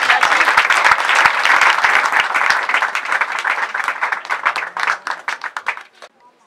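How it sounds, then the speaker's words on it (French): Guests at a customary wedding ceremony applaud loudly, dense close clapping that thins into scattered individual claps before stopping. "Sous vos acclamations, s'il vous plaît."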